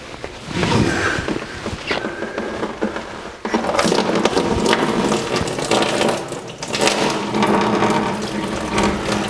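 Coolant pours and splashes out of a removed 2-inch lower radiator hose on a 1949 Chevrolet gasser, a continuous watery gush and trickle lasting several seconds with brief dips, close by and without talk.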